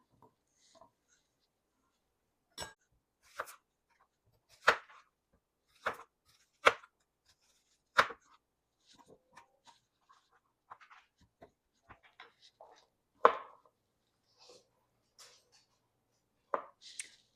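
Onions sliced roughly with a knife on a board, a series of sharp, separate chops at irregular intervals, close and fairly quiet, with softer handling noises between them and no voices.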